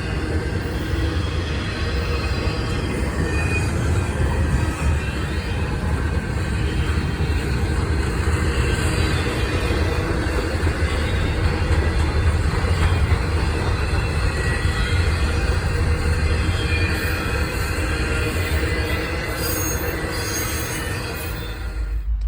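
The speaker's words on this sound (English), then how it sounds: "This train was moving to a crawl as it will again stop at the airline yard and switch some rail cars around." A freight train crawls slowly past, its wheels squealing and grinding against the rails over a continuous low rumble, with sharper squeals rising toward the end.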